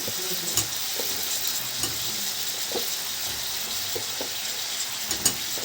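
Shukto vegetables with eggplant frying in a pan give a steady loud sizzle, broken by a few light scraping stirs and clinks near the pan, with no talking.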